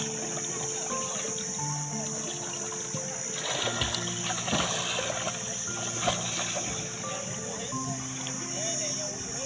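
Water splashes and trickles steadily as people swim on a scorching 44-degree summer day, with a constant insect trill behind and scattered voices in the background.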